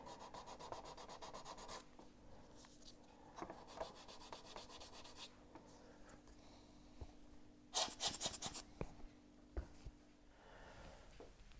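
Sanding Vallejo putty filler on a 1/400 scale Queen Mary 2 model ship, with steady close rubbing strokes in bursts, a short pause, then a louder scraping flurry and a few scattered scrapes, alone with no talk.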